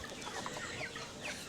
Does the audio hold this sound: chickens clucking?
yes